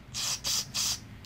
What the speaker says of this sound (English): I'm gonna blow through all the passages